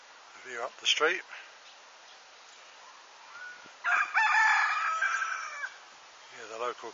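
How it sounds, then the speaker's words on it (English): A rooster crows from a moderate distance, once, then again with a long drawn-out call, and starts a third crow near the end. "the local cockerel trying to wake us all up and succeeding"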